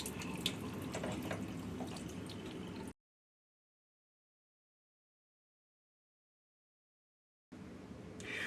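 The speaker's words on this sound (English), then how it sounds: "open each stop approximately 20 seconds each to flush" Water flushes hard through the stops of a thermostatic pressure-balance shower valve, a loud hiss that cuts off abruptly, followed by silence, then the rush resumes briefly.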